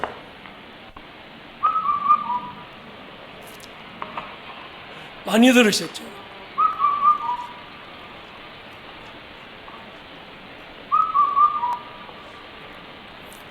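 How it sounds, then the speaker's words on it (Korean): A recorded call of a cuckoo nicknamed 홀딱 벗고 is played back: three short whistled phrases, clear and evenly spaced, over a faint hiss, with a brief voice between the first and second calls. "인카운트 갈 때마다 제가 여러분에게 들려드리는 새소리가 있습니다"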